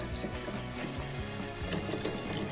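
Strongly carbonated sparkling water pours steadily into a concentrated drink, a continuous liquid stream with fizzing texture, fairly faint and without speech.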